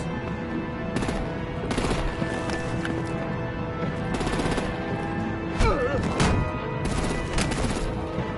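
Artillery gunfire in a Batman Telltale-style video game: repeated bursts of loud firing break out in clusters over a constant dense background of game battle sound, with no talk.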